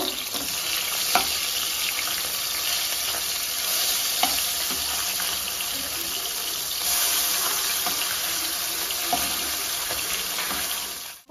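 Fish frying in hot oil in a pan, a steady, dense sizzle running throughout with occasional soft clinks of stirring or turning, no voices.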